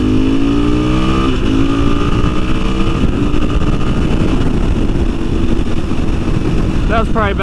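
A KTM 500 EXC-F dirt bike accelerating onto a highway at around three-quarter throttle, loud steady engine drone with rising pitch and heavy wind rush throughout, recorded up close from the rider's position.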